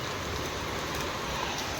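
Heavy rain pours down steadily, a dense, even hiss of falling water filling the whole short stretch with no voices.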